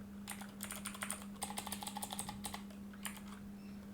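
Typing on a computer keyboard, a run of quick close key clicks in uneven bursts with short pauses, over a steady low electrical hum.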